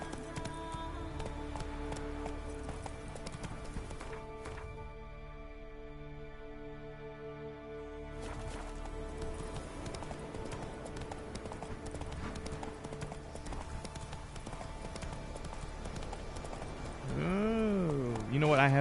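Steady hoofbeats from Roach, the horse in The Witcher 3, clip-clop in an even trotting rhythm along the Skellige roads, carrying on under game music with a short pause partway through.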